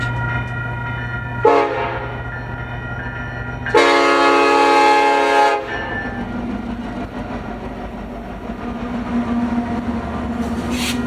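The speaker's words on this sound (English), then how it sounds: "trains actually blow their horns for here" Freight train led by an SD70AH locomotive sounding its horn in two loud blasts, a short one and then a longer one, over a steady rumble of the passing train, heard outdoors in Utah.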